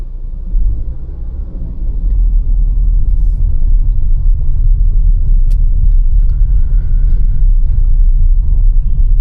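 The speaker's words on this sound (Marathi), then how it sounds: "आपल्याला मस्तपैकी गाडी चालवायची आहे ट्रॅफिकमधूनच" Car interior while driving through city traffic, a steady low engine and road rumble throughout, fairly loud and constant with no voices.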